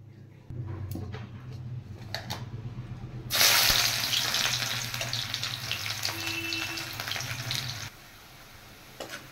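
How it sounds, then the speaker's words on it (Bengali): Chopped onions dropped into hot oil left over from frying fritters, giving a loud, steady sizzle that surges partway through and holds for several seconds before easing, with no talking. "এবার তেলে আমি কুচিয়ে রাখা পেঁয়াজ দিয়ে দেব।"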